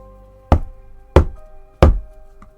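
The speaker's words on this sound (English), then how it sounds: "The door thundered again, louder this time" Three heavy, evenly spaced knocks on a hotel room door, loud and close, each a sharp thud with a short ring-out and no voices.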